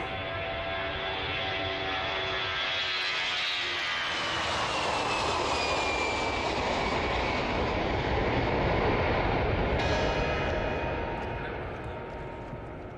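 A passenger airplane engine roars loudly and continuously, its whine sweeping downward in pitch as the aircraft passes close by, with a broad rushing drone filling the whole stretch and no talk.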